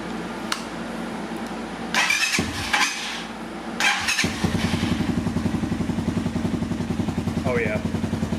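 Honda CR230F dirt bike fitted with a full CSC TT250 exhaust system, heard through a few cranking attempts before catching and settling into a steady, rapid idle with a pulsing exhaust note, close by.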